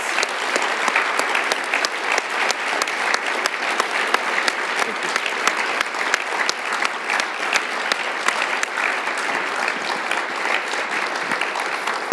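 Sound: audience applause after a lecture introduction

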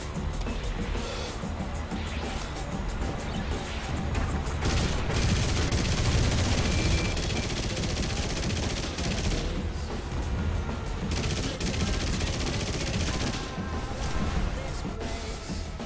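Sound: anti-aircraft gunfire in War Thunder video game

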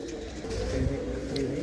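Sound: pigeon cooing

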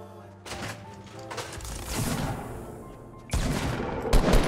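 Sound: gunfire in Fortnite video game

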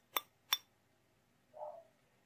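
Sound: glass pen clinking

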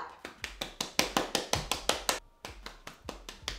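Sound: hands clapping hair to remove gel crunch

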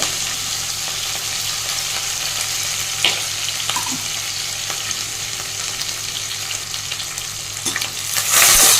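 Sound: green chilies and curry leaves sizzling in hot oil

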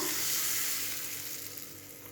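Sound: hot cumin-asafoetida tempering poured onto dal chutney

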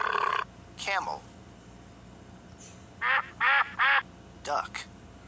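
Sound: duck quacking

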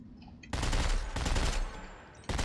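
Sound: gunfire in video game Dead Space 3

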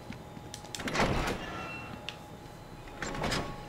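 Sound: large door opening in video game Batman: Return to Arkham

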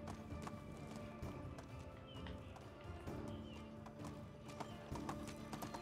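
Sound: donkey hooves clip-clopping in Medieval Dynasty video game

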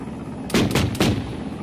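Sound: helicopter cannon fire in video game Arma 3

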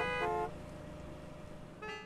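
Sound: car horn honking in video game Gas Station Simulator

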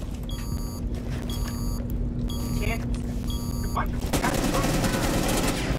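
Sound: gunfire in the video game Rainbow Six Siege

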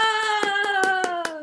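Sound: hands clapping

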